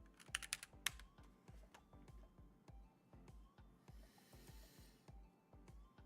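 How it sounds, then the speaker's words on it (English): Someone types on a computer keyboard with a steady run of soft, close key clicks, a few sharper taps near the start, over a quiet room. "I just typed something to myself on TikTok"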